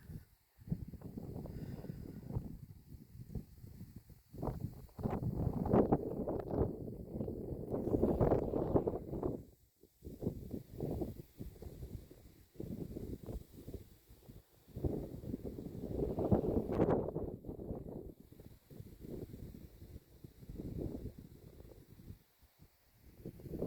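Gusty outdoor wind roars against the microphone during a homing pigeon road toss training session. The rumbling gusts surge and fade repeatedly, loud and close, with no voices.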